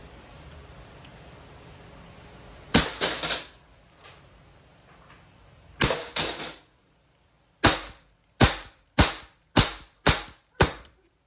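A nickel-finished Walther CP88 .177 airgun firing outdoors: sharp cracking shots, first in a quick cluster of three, then another cluster, then a steady run of six evenly spaced single shots over quiet background noise.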